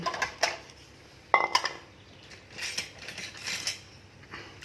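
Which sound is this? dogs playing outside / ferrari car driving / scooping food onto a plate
scooping food onto a plate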